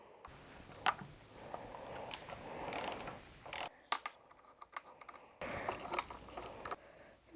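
Small mechanical clicks, ratcheting and rustles while a Maven brake lever is fitted onto a mountain bike handlebar, faint and close, with scattered sharp ticks and a brief louder rattle.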